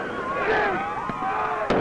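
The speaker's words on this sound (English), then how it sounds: "That sounds like fireworks and stuff." Fireworks going off in a New Year's-style celebration, heard as a few sharp distant pops and bangs over ongoing voices and crowd-like chatter.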